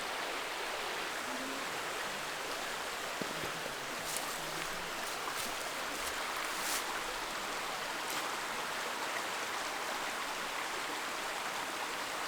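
A trail stream in Red River Gorge rushes steadily nearby while water is filtered with a Katadyn BeFree, a constant broad wash of flowing water with a few faint clicks.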